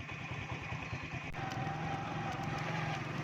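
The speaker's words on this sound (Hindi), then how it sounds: "अभी बाइक मेरी स्टार्ट है तो मैं निकल रहा हूँ।" A motorcycle engine runs steadily with a throbbing, chugging note as the bike is ridden through deep mud in rainy weather, close and continuous, with a brief knock partway through.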